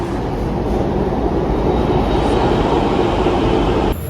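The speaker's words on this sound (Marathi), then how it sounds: "मित्रांनो, ट्रेन आली बरं का पुढून, आम्हाला दिसते." At a Pune metro station, a train draws up to the platform with a loud, steady, close rumble that fills the whole moment, then cuts off abruptly near the end.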